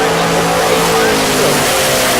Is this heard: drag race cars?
yes